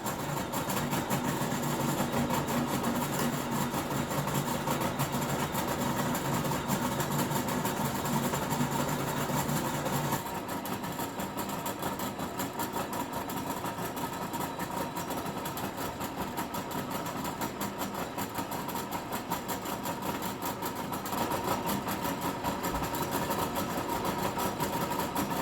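A line boring machine takes a very light cut through the bores of a plate for a hydraulic cylinder, a steady machining drone with a continuous mechanical hum that holds even and moderately loud throughout.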